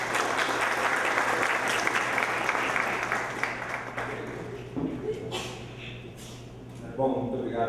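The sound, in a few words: conference audience applauding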